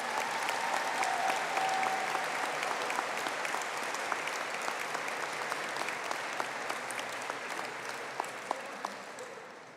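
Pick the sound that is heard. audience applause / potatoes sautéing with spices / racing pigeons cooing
audience applause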